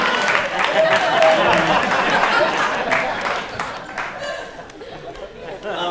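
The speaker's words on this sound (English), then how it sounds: "please don't applaud" An audience claps and chatters at an awards ceremony, applause mixed with murmuring voices and light laughter, fading slightly toward the end.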